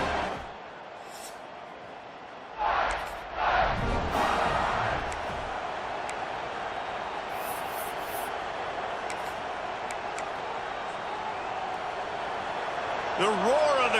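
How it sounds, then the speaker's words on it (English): In EA Sports College Football, a stadium crowd sends up a steady, continuous roar of broadband noise that swells slightly at moments, with commentator voices over it. "The roar of the crowd trying to fuel this defense to keep them pinned in their own end."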